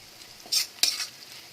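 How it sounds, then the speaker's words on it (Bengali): Capsicum and carrot are stir-fried in a pan for rice noodles, heard as two quick, close scraping stirs over a faint background sizzle. "এবার আমরা ক্যাপসিকাম দিয়ে দিলাম।"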